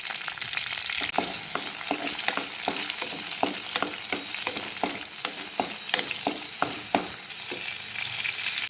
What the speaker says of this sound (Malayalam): ചട്ടി ചൂടായി കഴിയുമ്പോൾ അതിലേക്ക് വെളിച്ചെണ്ണ ഒഴിച്ചു കൊടുക്കാം കുറച്ച് കറിവേപ്പില ഇട്ട് കൊടുക്കാം വെളുത്തുള്ളി ഇട്ട് കൊടുക്കാം